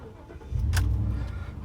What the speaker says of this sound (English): so I am definitely gonna start this thing up.